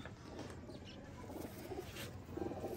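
Pigeons of a fancy breed, white-tailed and black-tailed kinds with purple feet, coo softly in a loft. Low, rounded calls repeat over a steady murmur of bird noise, with no talk.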